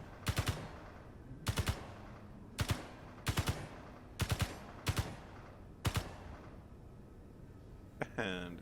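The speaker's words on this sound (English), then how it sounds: "Where's my gun? So I can shoot at it first." Gunfire in the Space Engineers video game: several short rapid bursts of two or three shots each, sharp and evenly spaced, followed by a brief different clatter near the end.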